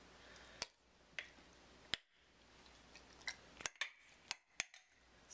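A large metal spoon set into a jar of freshly packed cabbage kimchi, giving a few sharp, close clinks and taps against the glass, spaced out over a few seconds with quiet between them and no talk.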